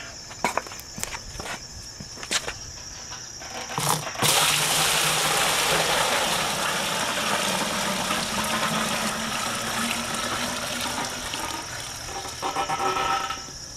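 A large volume of hot water is poured into a brewing mash tun during an all-grain mash, rising to a steady, loud rushing splash that runs on after a few lighter clanks and taps.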